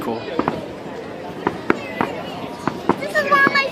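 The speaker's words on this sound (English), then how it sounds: "This is one of my favorite kind of fireworks" Fireworks bursting at a July 4th show in Washington, DC, a series of sharp distant pops and cracks spaced irregularly, with crowd chatter and a voice talking underneath throughout.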